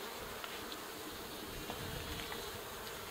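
Honey bees buzz in a steady, dense drone around an open hive during a brood-frame inspection, with the swarm sound continuous and fairly close and no talking.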